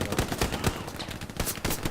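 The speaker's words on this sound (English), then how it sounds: "guns it down with a pistol" Pistol fire in the video game Glow's Battlegrounds: a rapid string of sharp, close shots in quick succession, with no talking over them.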